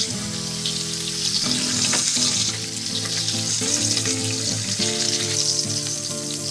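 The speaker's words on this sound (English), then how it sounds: "You see, just brown it a little bit on the side." Pork ribs browning in a pan give a steady, close sizzle and crackle, with a few faint clinks of stirring and no talking.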